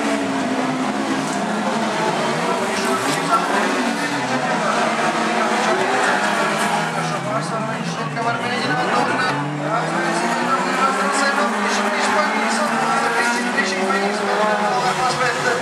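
Rallycross race cars drive close together at the Biķernieki track, with engines revving and droning continuously in pitch-shifting sweeps as the cars pass, under steady commentator talk.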